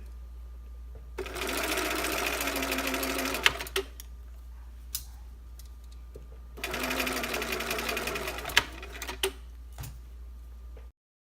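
A sewing machine stitches fabric along a fold line for hidden binding in two sustained runs of rapid mechanical whirring, separated by a pause with small clicks and handling knocks, close and clear.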